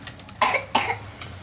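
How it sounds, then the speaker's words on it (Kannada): A person coughs indoors at home: two strong, close coughs in quick succession, then a softer third cough a moment later. "ನೋಡು ಎಷ್ಟು ಕೆಮ್ಮು ಹೊಂಟದ"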